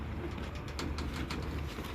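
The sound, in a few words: pigeons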